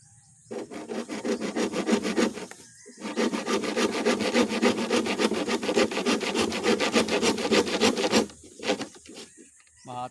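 A sharp handsaw cuts through bamboo at the node to make a chicken feeder, in fast rhythmic strokes that rasp close and loud for several seconds. A short break comes midway and the cutting stops near the end.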